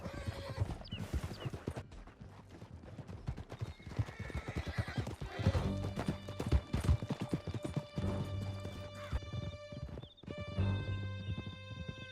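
Horse hoofbeats in Red Dead Redemption 2, a steady clip-clop of galloping with a whinny and neighs, moderately loud amid game ambience, with no talking.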